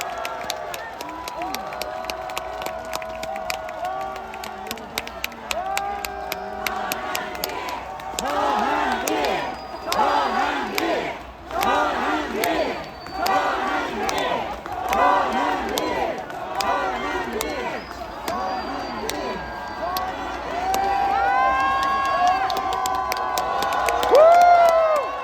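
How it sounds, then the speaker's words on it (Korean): A large crowd at an outdoor prayer rally cheers, whistles and shouts loudly for a speaker, with applause building in sustained, dense waves and voices over it. "큰 박수 부탁드립니다."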